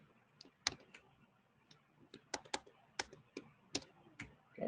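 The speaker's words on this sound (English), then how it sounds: "So if I can type correctly," Crisp, close keystrokes tap out an entry on a computer keyboard, each click clear and distinct at an uneven, hesitant pace over a faint background hum.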